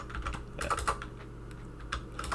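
Keys clack on a computer keyboard in quick irregular bursts, close and moderately loud, with no voices.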